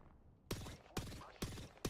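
Video game gunfire: four loud, evenly spaced bursts of shots ring out in quick succession, each with a sharp crack and a short rumbling tail.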